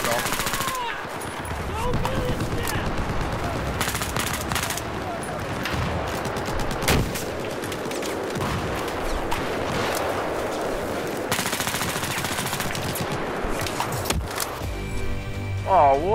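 Heavy Battlefield 4 combat with rapid machine-gun bursts and RPG blasts, loud and nearly continuous, with a voice faintly audible beneath.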